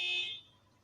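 A single short electronic beep from a car alarm sounds in a residential area, bright and clear, then fades quickly into quiet.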